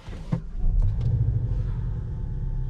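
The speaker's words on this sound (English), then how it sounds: "start it up and listen to the sound that this car makes" A 2021 Skoda Octavia RS with its 245 hp engine fires up nearby, a brief cranking burst settling into a low, steady idle rumble heard alone.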